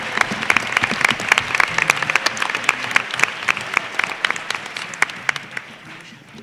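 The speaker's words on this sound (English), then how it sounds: "Let's have a big round of applause for all 10 teams who had an excellent season." Sustained applause from an audience at an academic tournament championship, dense clapping filling the room for several seconds at a steady level before tapering slightly at the end.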